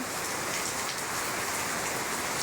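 Rain pours down in rainy weather, a constant dense hiss and patter filling the whole stretch evenly, loud and close with no talking.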